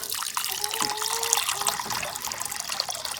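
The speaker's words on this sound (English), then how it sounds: "I'm just gonna give the bunnies water." Water trickles and splashes from a tap or container while pet rabbits' water is refilled, a close, continuous pour with small gurgles and shifting tones.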